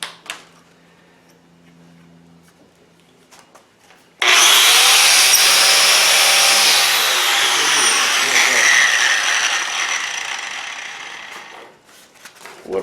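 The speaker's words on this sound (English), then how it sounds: "Probably could have got it with the wire wheel." A wire wheel scours the steel of a double bit axe head during restoration, a loud sustained harsh abrasive whir lasting about seven seconds that starts abruptly after a quiet stretch with faint voices, then winds down.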